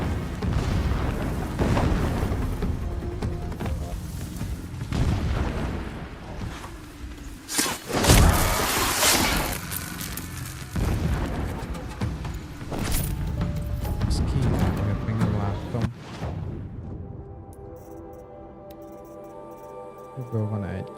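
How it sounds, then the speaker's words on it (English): Distant booms roll through the game world of Horizon Zero Dawn, a series of heavy, rumbling explosions that swell and fade over a steady background, with one bigger blast in the middle and quieter ambience at the end. "Explosions in the distance."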